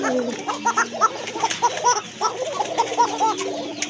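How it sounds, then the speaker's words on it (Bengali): Egg-laying breeding pigeons coo near and loud in a steady run of repeated rolling calls, with some faint voices in the background. "এটাও কিন্তু আপনার খুব ভালো ডাকে এই যে দেখেন ডাকাডাকি কিন্তু শুরু হয়ে গেছে"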